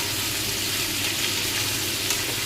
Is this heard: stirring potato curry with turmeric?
yes